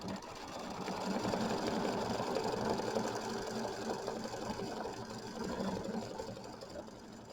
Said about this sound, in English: so now we're ready to do the first satin stitch around the K and the Y